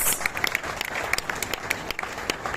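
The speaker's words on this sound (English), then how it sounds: "I think the legislature deserves a better round of applause" A seated audience at a national digital literacy policy dialogue gives a round of applause, with dense, steady clapping filling the room and no talk over it.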